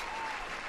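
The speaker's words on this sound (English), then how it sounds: "let's give a round of applause for Garu the Kobold" Brief burst of audience applause at a homebrew Dungeons & Dragons challenge event, a steady wash of clapping at moderate volume running through the whole moment without any voices.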